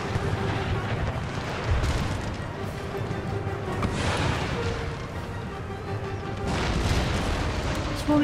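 Artillery cannons in the video game Empire Total War boom repeatedly across a battlefield, dense rumbling volleys mixed with distant gunfire, continuous and fairly loud.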